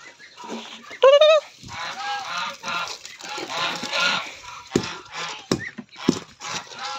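Free-range Muscovy ducks are fed soggy leftover food, with one short loud honking call early on, then softer pecking, shuffling and rustling noises that come and go.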